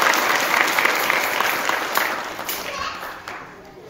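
An audience at a devotional discourse gathering for Akshaya Tritiya claps loudly and continuously, a dense wash of applause that slowly fades, with voices mixed in.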